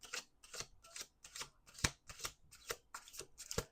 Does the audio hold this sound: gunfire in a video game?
no